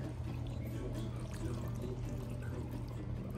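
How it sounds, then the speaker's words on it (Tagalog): Water poured into a pot while home-cooking mackerel sardines in olive oil, a steady low splashing and gurgle that runs continuously, fairly faint, with no talk over it. "Dadagdagan natin ng tubig."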